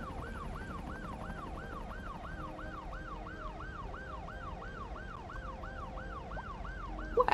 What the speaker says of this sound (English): you have to move out of the way for the ambulance